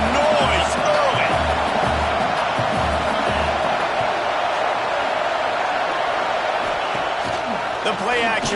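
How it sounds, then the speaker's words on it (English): Dense stadium crowd roar in College Football 26, an Oregon Ducks dynasty game, holding steady and loud for the whole stretch, with whistles and cheers rising out of the wash and low rhythmic chanting thumps early on. "This crowd bringing the energy and noise early."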